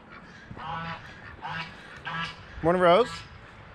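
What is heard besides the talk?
ducks quacking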